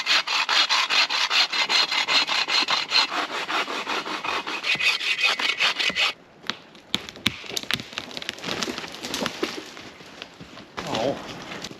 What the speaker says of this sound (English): Found myself a white pine, dead right to the top. I'm gonna cut him down.